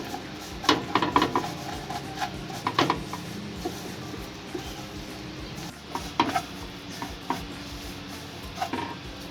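A sweet mixture frying in a pan over a low flame, stirred with a utensil that scrapes and knocks against the pan in irregular bursts over a faint sizzle, close up with no talk.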